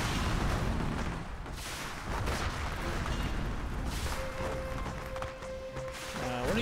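Dense, continuous battle rumble from the strategy game Rise of Legends, with gunfire and artillery booms blending into a loud, steady wash of explosions throughout.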